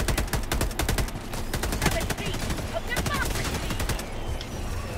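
Anti-air guns in Helldivers 2 pound out fast repeated bursts of heavy fire, loud and close, with scattered impacts under occasional speech.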